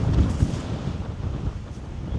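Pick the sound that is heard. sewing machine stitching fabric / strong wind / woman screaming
strong wind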